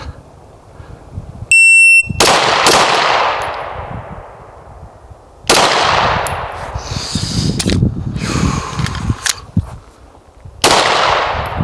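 Smith & Wesson M&P 2.0 pistol fired on a shooting range: a short electronic beep, then about five sharp, loud shots at irregular intervals, each followed by a ringing, decaying echo.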